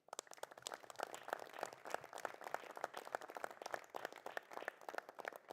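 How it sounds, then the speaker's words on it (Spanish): Conference attendees at an electoral organizations' meeting give a warm tribute applause, with steady, crisp clapping from a crowd that is fairly faint and heard alone. "con un caluroso aplauso de parte de todos los presentes"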